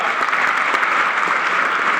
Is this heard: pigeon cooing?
no